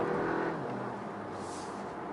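An Audi Q3 Sportback 2.0 TSI turbo engine accelerates in eco mode, heard from inside the cabin as a smooth, fairly quiet, steady engine whir that eases slightly, with no talk.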